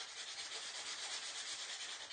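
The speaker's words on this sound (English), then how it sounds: "I'm going to take my sanding block and I'm just going to go ahead" Steady scratchy rubbing of a sanding block on wood, a continuous rasping stroke back and forth, close and quiet.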